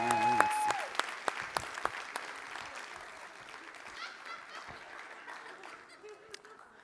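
A comedy club audience applauds for Alex, a burst of clapping that starts strong with sharp individual claps and gradually thins and fades over several seconds.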